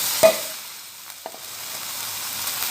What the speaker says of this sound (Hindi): अब मैं इसमें चिकन डाल दूँगी ताकि वो भी साथ साथ फ्राई हो जाए।